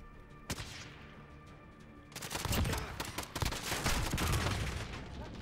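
Gunfire in the Modern Warfare multiplayer game, with a single sharp shot early and then a dense burst of rapid shots and crackling impacts, fairly loud, with no talk over it.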